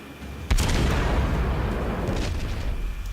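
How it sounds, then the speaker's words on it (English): Heavy naval guns of a cruiser in World of Warships fire armor-piercing shells: a sudden deep boom opens a long rumbling roar, with another sharp report cracking out partway through, loud and close with no talk. "And they're all firing armor piercing, and it looks like a lot of those shots hit."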